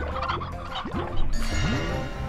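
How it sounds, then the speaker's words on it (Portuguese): Chickens cluck and squawk in quick, close bursts on a farm in the video game Slime Rancher, with other game sounds behind them. "Temos galinhas."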